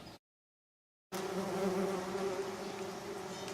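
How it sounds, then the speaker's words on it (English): Bumblebees buzzing close around a person's head while a cardboard nest box is moved, a steady near drone that starts abruptly after a second of silence and holds at moderate loudness. "there were a few more bumblebees than I thought, and they're milling around my head"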